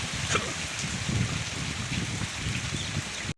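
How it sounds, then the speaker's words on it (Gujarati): Steady rush of rain falling hard outdoors, a dense wash of patter with no pauses, cutting off abruptly at the end. "એકદમ વરસાદ ચાલુ છે અટાણે જોરદાર"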